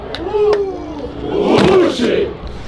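A football crowd of Lokomotiv fans chants together at a match in Belarus against Torpedo-BelAZ, with hand claps and loud massed voices swelling in the middle.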